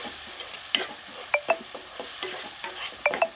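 Tomatoes stirred into a cluster beans curry, a spoon scraping and tapping the pan in short strokes over a constant soft sizzle, nearby and fairly loud, with no one speaking.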